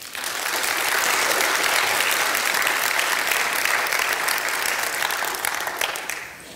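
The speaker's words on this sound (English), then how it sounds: "I know you want to clap, and you can go ahead and do that." A church congregation claps during a Mother's Day sermon, a full wash of applause that rises quickly, holds strong for several seconds, then tapers off near the end.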